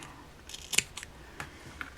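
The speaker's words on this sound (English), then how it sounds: "So I'm going to just use these little cutters here." Small cutters snipping crochet yarn, a few sharp close clicks and snips spaced unevenly over quiet background.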